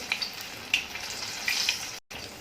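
Bread, cheese and corn patties fry in hot oil on a low flame, giving a steady, close hiss of sizzling with small crackling pops and a brief dropout near the end.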